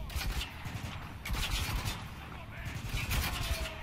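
Rapid, dense gunfire bursts from a firefight in the video game Spec Ops: The Line, with overlapping shots and clatter that stay loud and close throughout, with muffled voices underneath.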